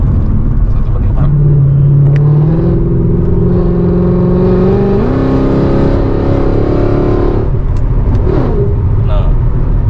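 A Mercedes C63 AMG with a 6.3-litre V8 revs up through rising gears on a highway, a loud, close, continuous engine roar with valve noise, while people talk inside the car.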